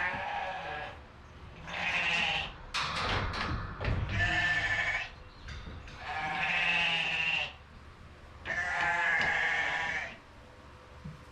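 Pregnant ewes bleat in a barn pen during a lambing-season morning, with four or five loud, drawn-out bleats spaced a couple of seconds apart and a thud between them.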